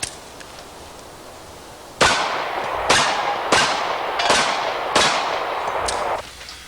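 Pistol shots at an outdoor range, five sharp loud cracks in a steady rhythm about a second apart, each trailing off in a brief echo, with no talk.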